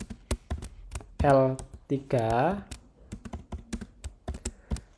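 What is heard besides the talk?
typing a command on a computer keyboard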